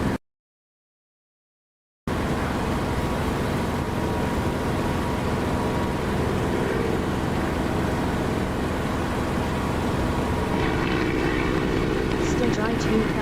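An aircraft engine in the DCS flight simulator throttles back, a steady droning hum with a faint whine rising late, following a two-second gap of silence at the start.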